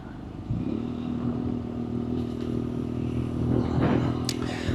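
A BMW F800R motorcycle on the move, its engine droning steadily and close with a slight rise in revs, wind noise blended in and no talk.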